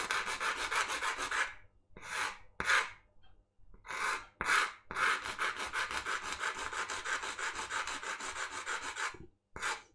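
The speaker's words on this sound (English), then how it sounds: "the first thing I'm going to do is just sand uh, the end nice and square" Rapid back-and-forth sanding of the cut end of a small plastic cockpit panel piece for a home-built 737 flight simulator, a close, steady rasping in quick strokes with a few brief pauses.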